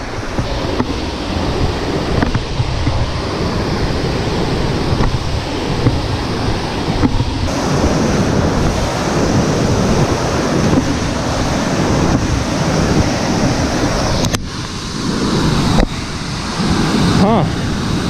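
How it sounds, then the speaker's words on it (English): A waterfall pours down in a steady, dense roar of rushing water, loud and continuous with gusts of wind buffeting the microphone throughout. "Now that's a waterfall."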